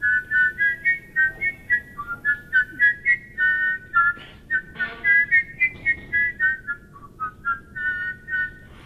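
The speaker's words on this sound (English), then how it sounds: "It's called a double whistle." A person performs a two-tone double whistle, producing two clear pitches at once in a bright, steady melody of rapid repeated notes. The whistling is close and loud, with no talking.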